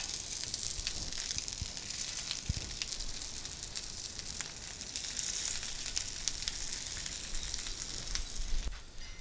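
Rice buns sizzle in vegetable oil on a hot griddle, a steady, dense crackling hiss throughout with occasional pops, close and continuous.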